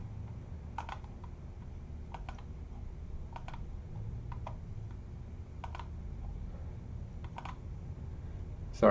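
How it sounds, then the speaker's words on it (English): Light, crisp clicks from a computer mouse or keys on a desk while dealing with an email, scattered in small irregular clusters over a quiet, faintly humming room, close and soft, with no speech. "I guess I keep clicking on the email trying to close it"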